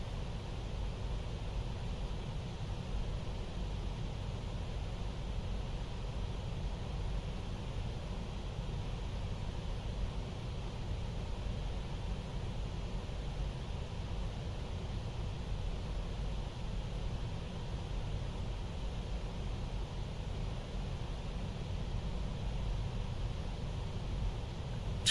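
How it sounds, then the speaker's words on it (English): The GE90 engine of a PMDG Boeing in the Prepar3d flight simulator gives a steady, broadband white-noise hum, unchanging and moderately quiet for the whole stretch, with no talk. "the white noise of the GE90."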